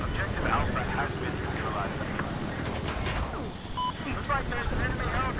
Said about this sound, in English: The chopper is behind you,